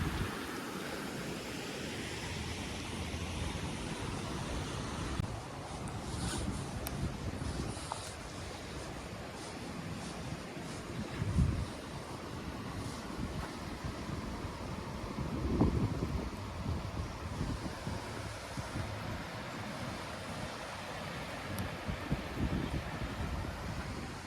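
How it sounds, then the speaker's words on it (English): Continuous rushing water at falls roars steadily, a broad, even wash of noise with occasional swells, no voices. "There's a lot of water rushing through here"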